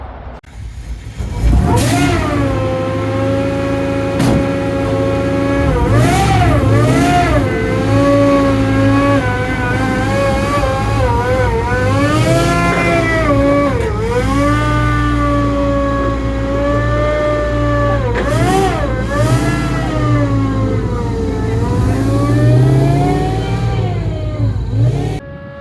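A Jaguar XKR race car engine revs repeatedly during testing at Combe circuit, pitch climbing and dropping through gear changes, loud and close throughout with no talking.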